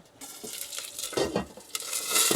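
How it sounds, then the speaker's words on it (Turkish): Hot oil sizzles and spits in a pan while cooking in a camper van, with uneven crackling bursts and splatters up close, plus light clinks of a utensil against the pan. "Yağ sıçradı aşkım yüzüme."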